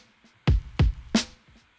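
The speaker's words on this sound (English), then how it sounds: "the main drums I use are just this regular Ableton drums called choral kits" Ableton Core Kit electronic drum samples: three punchy hits, two deep kick-like thumps followed by a brighter snare-like crack, spaced evenly and heard alone at moderate loudness.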